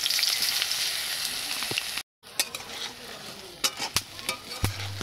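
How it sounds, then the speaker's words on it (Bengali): Fritters made with ol (elephant foot yam) leaves frying in hot oil in a pan, a steady close sizzle broken by a brief gap and scattered clinks and scrapes as the pieces are turned. "উল্টে পাল্টা ভেজে নিচ্ছি"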